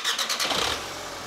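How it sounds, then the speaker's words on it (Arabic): A Volkswagen Golf 6 R20 turbo engine, in poor condition, cranks with a few rhythmic pulses, then catches and settles into a steady running hum. "نسمعوا الموتور مع بعضنا، نوضنا الحاجه."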